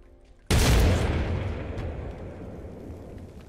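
A frag grenade detonating in a video game, one sudden loud boom with a long rumbling decay fading over several seconds.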